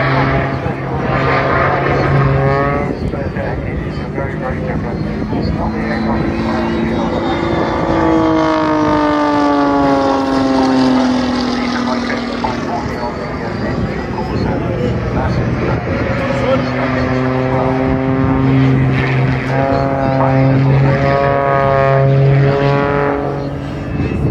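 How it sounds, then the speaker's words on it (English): An aerobatic aircraft with a propeller and two small jet turbines performs at the 2024 Southport air show, its engine tone rising and falling as it passes and rolls, loud throughout with a commentator talking over it. "Got a couple of jet engines as well as a prop."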